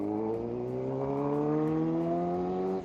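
A 2012 Suzuki GSX-R750 sport bike engine drones close and loud, its pitch climbing smoothly as it revs up for a few seconds before cutting off.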